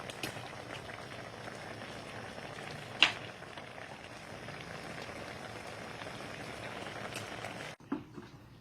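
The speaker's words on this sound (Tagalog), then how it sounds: "Ayan, kumukulo na po." A pot of squid adobo with tomatoes boiling steadily with a dense bubbling sizzle, one brief louder clink midway, then the sound cuts out near the end.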